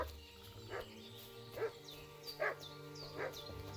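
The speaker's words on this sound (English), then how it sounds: "What's that dog making such a fuss about?" Dog barking in Kingdom Come Deliverance II, four separate barks spaced about a second apart over a steady game ambience hum, moderately near.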